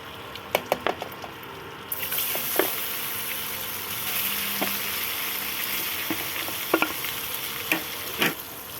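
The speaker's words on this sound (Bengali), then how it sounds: "প্রথমে পনিরটাকে ভেজে নিতে হবে।" Steady sizzling of paneer frying in a pan, with sharp clicks and taps of a utensil stirring now and then, close by and fairly loud.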